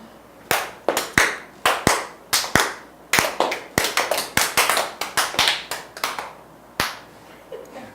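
Hand claps in a classroom-style group exercise, a long run of sharp, close claps in uneven bursts, some single and some in quick pairs, with no talking.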